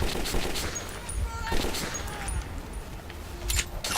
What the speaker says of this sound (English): Seems to be a grenade of some kind.